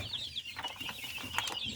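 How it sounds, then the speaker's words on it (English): Nine-week-old Kenbro chicks in a brooder, a steady chorus of soft clucks and high cheeping calls from many birds close by, with a faint background hum. "These are 9 weeks old Kenbro chicks."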